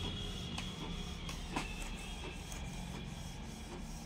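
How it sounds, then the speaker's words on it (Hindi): A Canon G-series inkjet printer (G1730/G2770/G3770 family) runs steadily through a print job, a continuous low mechanical whir with soft periodic clicks and shuffling paper-feed ticks, fairly quiet and unaccompanied by talk. "और जो प्रिंटर है वो छाप रहा है।"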